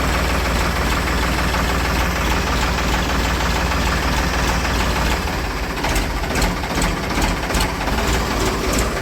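A Ford tractor engine running in a farm field, with a steady, close, knocking diesel-like chug that continues without pause.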